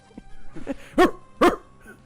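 A seagull-like creature in the Pokemon Emerald video game lets out a barking cry, two loud, short bursts in quick succession over a quiet game background.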